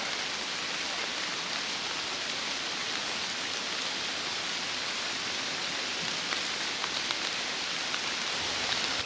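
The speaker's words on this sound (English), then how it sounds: "the rain seems pretty solid" Heavy rain falls steadily in open countryside with no shelter, a dense, loud, unbroken hiss of drops hitting surfaces with no pauses and no talk.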